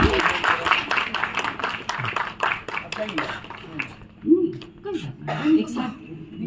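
Audience applause at a prize distribution for a Karnataka Urdu Academy writing and speech competition; scattered hand claps rise and fall throughout, mixed with a speaking voice and hall chatter.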